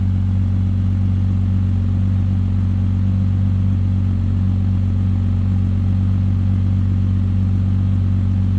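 A 2007 Porsche Cayman S engine idles, a steady, deep rumble loud and close, a constant low throb with no voices.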